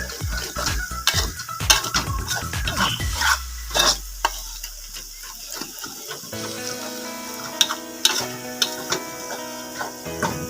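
Garlic fries in a pan, being stirred to crisp golden, a steady sizzle punctuated by repeated sharp scrapes and taps of the utensil against the pan, close and fairly loud with no talk.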